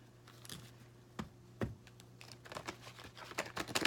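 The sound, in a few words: shuffling tarot cards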